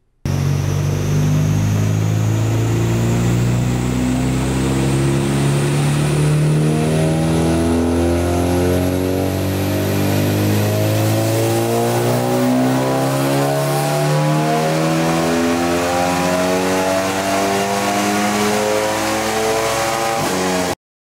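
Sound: Volkswagen Jetta stage 4 car accelerating hard

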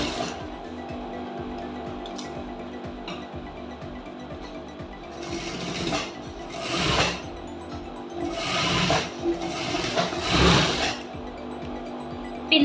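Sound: sewing machine stitching lock stitch on lining blouse

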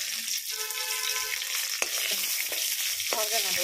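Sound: onion frying in a pan

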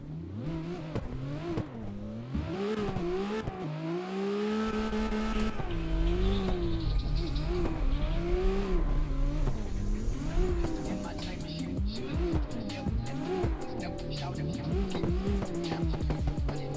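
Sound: race car engine revving in the video game CarX

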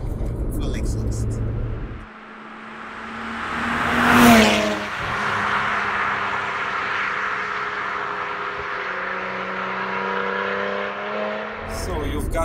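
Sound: BMW 1M Coupe engine with straight pipe exhaust

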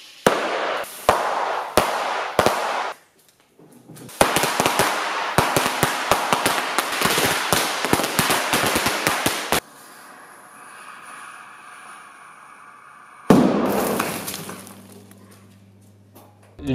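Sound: firecrackers popping for fake bullet impacts

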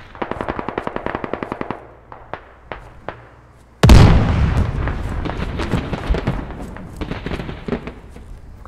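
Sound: gunfire in a military shooter video game

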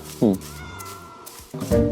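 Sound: cat meowing in Minecraft video game

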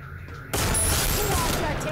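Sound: MP40 gunfire in the video game Free Fire

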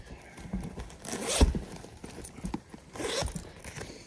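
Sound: zipper on a leather designer bag

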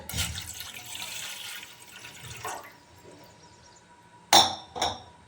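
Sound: glass of water poured into pan of used tea leaves

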